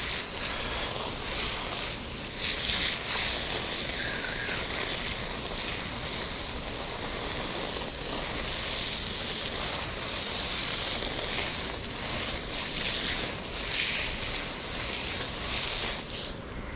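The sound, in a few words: rinsing bass fillets with water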